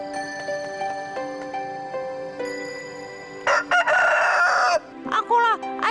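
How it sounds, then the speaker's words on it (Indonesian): A rooster from the Cindelaras legend crows amid bright musical tones, with a couple of loud, close calls breaking in near the end over the sustained backing. "Tenang, kalian pasti akan dengar ayamku berkokok"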